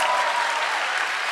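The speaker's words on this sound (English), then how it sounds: "Big applause for Woz" Audience applause for Steve Wozniak fills a short stretch at a conference, a dense, steady wash of many hands clapping at close range with no voices on top.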